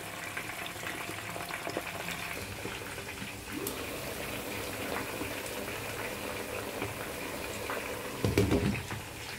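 Fish frying in hot oil in a pot over a fire while rice and stew are prepared, giving a steady sizzling crackle throughout with a brief louder burst of bubbling near the end.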